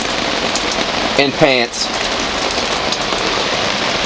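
Heavy rain pounds steadily on a sailboat at anchor off Gibraltar during a storm, a loud, dense hiss filling the whole clip, with a brief voice speaking over it midway.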